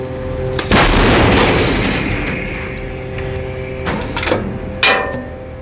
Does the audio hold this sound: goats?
no